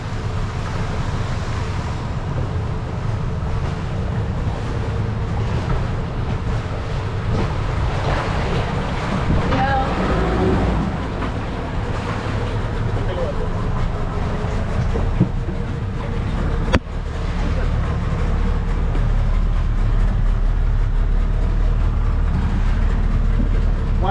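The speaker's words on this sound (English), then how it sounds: "Back inside the dinghy to exit the cave." A small dinghy outboard motor drones steadily as it carries people out of a sea cave in the Bahamas, with wind and surf washing over it throughout and a brief bump partway through.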